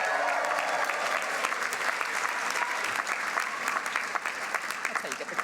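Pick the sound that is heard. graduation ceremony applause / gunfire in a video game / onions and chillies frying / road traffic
graduation ceremony applause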